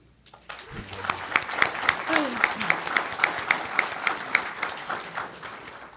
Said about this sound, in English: big round of applause for Grassroots Victory